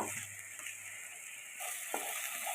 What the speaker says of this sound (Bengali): পেঁয়াজ আর রসুনের কাঁচা গন্ধ থাকা পর্যন্ত নেড়ে নেড়ে ভেজে নেব